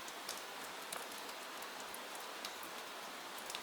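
Heavy rain falls outside as a dense, steady hiss of drops with faint scattered taps, even and continuous, heard alone without voices.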